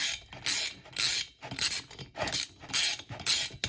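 An improvised puller draws the rocker arm shaft out of a Honda CB77 305 engine, giving repeated close metallic creaks and ratcheting clicks in short bursts with brief pauses between them.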